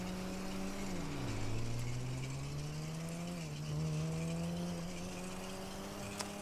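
A car driven in GTA 5 roleplay, a steady engine hum that dips and rises in pitch through gear changes, with tire squeal and constant road noise, fairly close.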